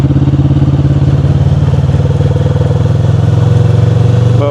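Kawasaki Vulcan S motorcycle engine running at a steady pace on a ride, a loud, close, continuous throbbing drone with even pulsing and no talk over it.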